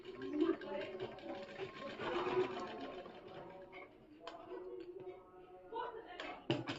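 A sewing machine stitching katori blouse fabric, running in short whirring bursts with pauses and a few small clicks, while someone talks over it.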